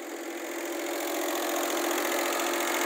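A Daihatsu CH engine idles with a steady, even drone while its idle speed is being turned down, running continuously and fairly quietly without talk.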